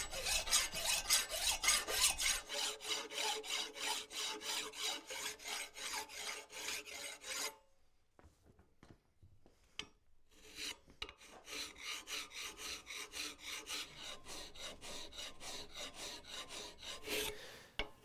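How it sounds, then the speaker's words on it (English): Hand file rasping across the moving part of a wrought iron door bolt, a close, rhythmic scraping in long repeated strokes, broken by a pause with a few light clinks before the filing resumes. "We're going to get this thing filed, the moving part of the bolt"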